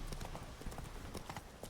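Roach, a horse in The Witcher 3, galloping with a steady, rapid clip-clop of hooves that stays loud and close for the whole short stretch.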